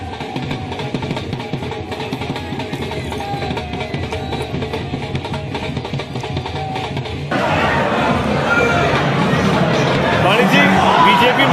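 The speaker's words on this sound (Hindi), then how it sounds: "बीजेपी मुख्यालय से शोर शराबा, पटाखे हमको सुनाई दे रहे हैं" Celebrating crowd at BJP headquarters, a dense continuous roar of chatter and cheering that swells louder in the second half, with a voice talking over it.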